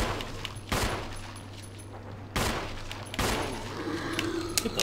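Gunfire in the Resident Evil HD game: three loud, sharp shots spaced about a second or more apart, each ringing out over a steady low hum and game ambience.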